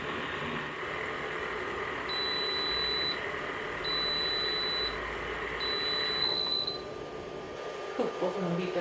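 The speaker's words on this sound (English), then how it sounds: "Both of them beeped at once." A milk frother and a water kettle beep together in three evenly spaced high electronic tones, each lasting about a second, over a steady whirring hum from the appliances.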